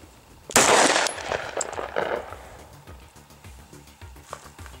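Glock 17 pistol fired in a rapid magazine dump, a loud burst of close shots in quick succession followed by a few scattered trailing reports and fading echoes, no talking.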